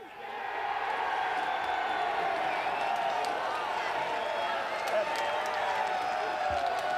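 Motorsport crowd at Sandown cheering and applauding a first-time Ford race winner in the 2000 Shell Championship Series, a steady, loud wash of distant cheers and clapping sustained throughout.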